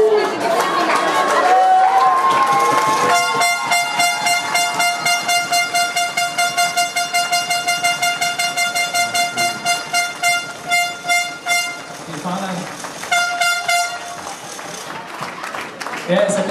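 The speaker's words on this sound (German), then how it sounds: "Er ist ein bisschen extrem mit seiner Hupe, aber das werden wir einfach überleben." A vehicle horn honks repeatedly in fast, loud rhythmic bursts over a crowd at a 2014 mountain bike championship event, with someone talking over the start and cheering behind.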